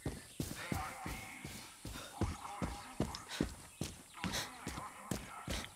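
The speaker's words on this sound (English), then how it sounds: "Ooh, horse." A horse clip-clops through the game Far Cry 6. Its hoof falls come in a quick, steady rhythm and sound close. Faint game sounds run underneath, with no clear speech.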